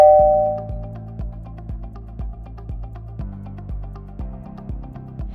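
A PECHAM wireless doorbell chime set to volume level 5 plays a loud, clear melodic tune of repeated ringing tones, each note sharply struck and decaying, running steadily through the whole stretch with no talk.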